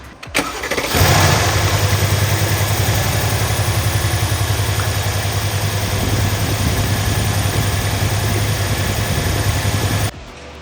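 A Mercedes C63 AMG engine, freshly fitted with Pure 1000 turbos, cranks and fires, then settles into a loud, steady idle with a deep rhythmic throb that runs close-up and uninterrupted for about nine seconds before cutting off.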